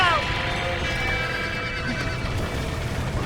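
Horses neigh and whinny repeatedly in a Red Dead Redemption barn scene, sharp cries rising over constant low rumble and clip-clop of hooves, with someone shouting nearby.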